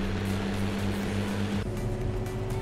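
An MB truck engine in the farming game Cattle and Crops gives a steady, droning hum whose tone shifts slightly partway through.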